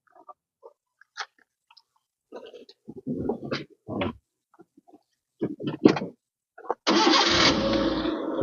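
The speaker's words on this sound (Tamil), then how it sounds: "நான் வண்டியை ஸ்டார்ட் பண்ணி காமிக்கிறேன். சார் வண்டியை ஸ்டார்ட் பண்ணுங்க." A Maruti Eeco seven-seater van is started: several faint clicks and short bursts of cranking, then the engine catches and settles into a steady idle near the end.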